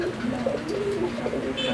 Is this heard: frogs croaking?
no